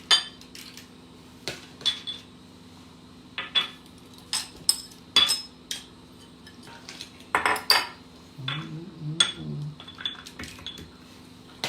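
A metal ice cream scoop drops Kahlua butterscotch cheesecake batter into mini mason jars, giving scattered close clinks and taps of metal on glass with soft scrapes between them.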